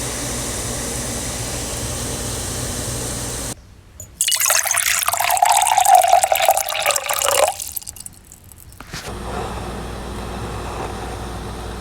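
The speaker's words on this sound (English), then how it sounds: "I grabbed water. I poured it into a cup." Water poured from a kitchen tap into a cup, recorded close on a phone as foley: a steady splashing fill of about four seconds between quiet stretches, ending with a brief trickle.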